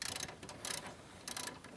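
Socket ratchet clicking in short quiet bursts while a seat nut on a John Deere 1025R subcompact tractor is tightened, three quick rattling spurts close by with a soft background hum.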